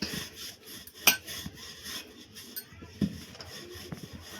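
Layered khari patties pastry dough being rolled out, heard as soft close rubbing and rasping strokes with a couple of sharper knocks, fairly quiet and without talk.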